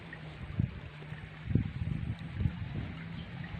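Steady rushing of a fast river at the meeting of two rivers, a broad continuous wash of water with low thumps, heard up close with no voices.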